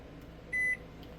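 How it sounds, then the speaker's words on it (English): A microwave oven runs with a low steady hum while reheating kitten food, and a single clear beep sounds partway through. "I'm going to put it back in the microwave for 5 seconds."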